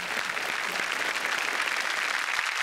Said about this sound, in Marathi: अशोक सराफ यांच्यासाठी एकदा जोरदार टाळ्या